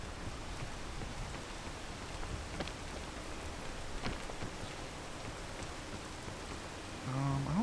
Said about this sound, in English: That's the problem with this rain.